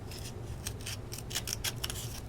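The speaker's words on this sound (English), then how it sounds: "if you have the smaller scissors, it's helpful. Then you can kind of trim off the" Small scissors snipping along the rough edge of paper, a quick run of close, crisp cuts with brief pauses between them, no talking.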